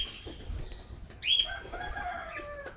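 Pigeons on a farm, with a sharp high chirp in the middle and soft rustling of wings flapping, heard at close range with no talking.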